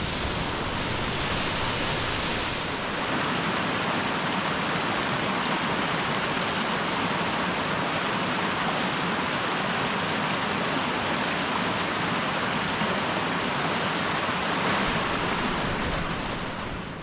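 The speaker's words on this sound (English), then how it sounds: "It's a beautiful little waterfall." Thowgla Falls, a small waterfall of cold water, pours with a constant broadband roar, close and loud, steady for the whole stretch with no voices over it.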